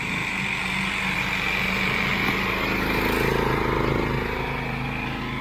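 A homemade Thai ride-on lawn mower runs close by with a steady, loud engine drone that swells slightly midway.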